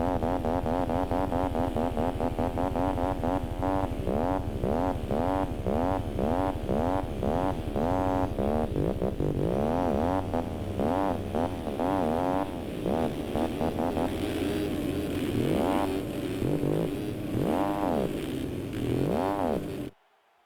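An electric Stark Varg dirt bike in the racing game MX Simulator, fitted with an odd stand-in sound file, produces a continuous buzzing, warbling motor drone that revs up and down repeatedly for the whole stretch.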